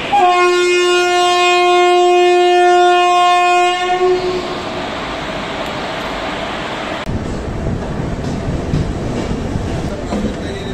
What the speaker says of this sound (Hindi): मेरी जो ट्रेन ओवरनाइट एक्सप्रेस है प्लेटफॉर्म नंबर चार पे आ चुकी है